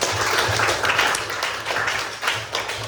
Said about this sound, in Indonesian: Beri aplaus dulu dong.